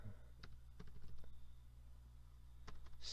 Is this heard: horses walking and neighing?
no